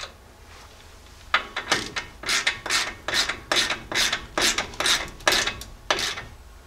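A ratchet wrench snugging down 3/4-inch shock absorber bolts during a 3-inch lift install on a 1978 Jeep J10, a steady series of about a dozen close, rasping clicking strokes in quick rhythm.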